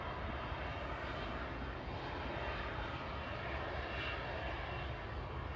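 A Ryanair Boeing 737-800 lands on runway 05R at Manchester Airport, its jet engines producing a continuous broad roar at moderate distance with no voices.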